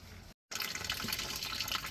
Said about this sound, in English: Still got some water coming through.